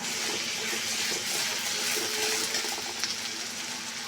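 Water is poured into a cooking pot of shapla (water lily stems) with onion, ginger and garlic paste, a soft steady splashing and trickling that continues without a break and with no talking.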